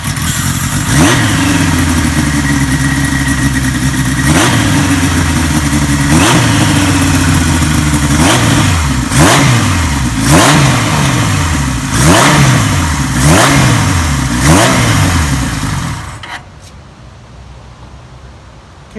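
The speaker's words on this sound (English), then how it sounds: "So here's what it sounds like on a KZ1000." A Kawasaki KZ1000 motorcycle fitted with Yoshimura replica Z1 exhaust pipes is revved repeatedly, its loud rasping engine rising and falling in regular throttle blips before dropping abruptly to a quieter idle.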